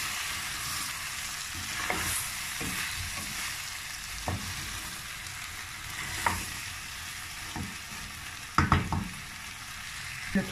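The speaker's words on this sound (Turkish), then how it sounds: "Patateslerimi ilave ediyorum. Hepsini şöyle karıştıracağım." Potato pieces sizzle steadily in a hot pan while a utensil stirs them, with occasional scrapes and clacks against the pan over the continuous frying hiss.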